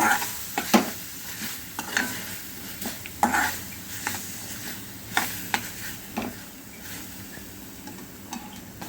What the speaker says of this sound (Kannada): ಈಗ ಇದನ್ನು ಚೆನ್ನಾಗಿ ಮಿಕ್ಸ್ ಮಾಡ್ಕೊಳ್ಳೋಣ